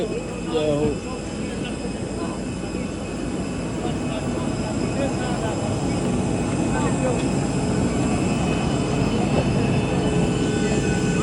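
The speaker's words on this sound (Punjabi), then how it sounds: "ਪਲੇਨ ਲੈਂਡ ਕਰ ਗਏ ਆ ਜੀ" An airliner cabin just after landing in Cyprus on a flight from Birmingham carries a steady, loud engine and cabin rumble throughout, with faint voices murmuring underneath.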